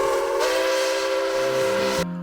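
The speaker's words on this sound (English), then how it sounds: "this is the weekend for the steam engines to pull the train on the scenic towpath of the canal" A loud, sustained steam whistle on a steam train pulling a scenic railroad excursion along a canal towpath in Cuyahoga Valley, a rich harmonic tone that shifts pitch and cuts off abruptly near the end.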